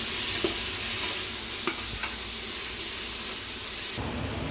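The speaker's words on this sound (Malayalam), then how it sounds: "എന്നിട്ട് നമുക്ക് നല്ലവണ്ണം ഒന്ന് വഴറ്റിയെടുക്കാം." Green chillies sautéing with salt in a hot pan give a continuous bright sizzle with a few sharp stirring scrapes, close and fairly quiet, with no voice.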